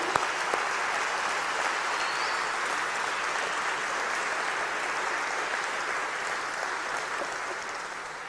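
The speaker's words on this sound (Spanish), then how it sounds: "Un aplauso al Señor." A church congregation applauds together in a steady, dense wash of clapping that holds evenly for several seconds, loud and sustained without any speech over it.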